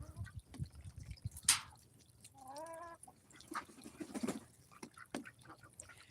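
Farm birds, ducks among them, call in short bursts with a brief harmonic quack series near the middle, over a low rumbling background and scattered clicks and taps, fairly close but not loud.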